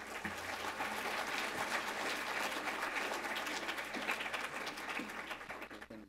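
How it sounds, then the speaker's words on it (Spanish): Conference audience applauding at the opening of a business event, a dense steady wash of many hands clapping at moderate distance throughout, with no voices. "Recibamos con un Cálido aplauso"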